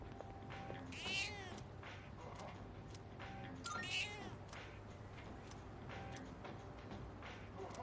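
A cat meows twice in a video game, with two clear, rising calls spaced a few seconds apart over a steady low background hum and soft game ambience.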